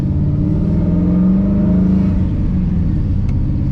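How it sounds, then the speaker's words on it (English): Car on a test drive, its engine droning loudly and rising in pitch as it accelerates, then settling, heard close from inside with no talking. "we're gonna drive this thing around and we're gonna see how it does."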